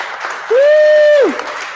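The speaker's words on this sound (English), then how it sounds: "just a round of applause to Ben for doing this for the community." Applause from a crowd at an Xbox community fan event, with a loud sustained whoop rising over it for nearly a second before trailing off.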